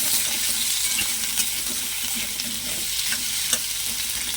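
Potatoes sizzle steadily in a hot frying pan for a vegetarian soya chunk dish, a continuous close crackle broken by a few sharp stirring scrapes, with no talking.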